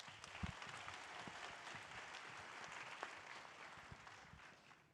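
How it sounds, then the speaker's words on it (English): Audience applause at a hackathon opening ceremony, a steady wash of many hands clapping at moderate level for the full stretch, with a few sharper individual claps standing out. "Let's give them a round of applause."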